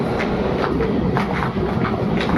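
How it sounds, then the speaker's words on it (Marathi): A train pulls into a busy station platform at Bhayander, its steady loud rumble and rattling wheels rolling on without pause, close by and with no talk over it. "धावपळ झालेली आहे कारण ट्रेन इकडे आलेली आहे"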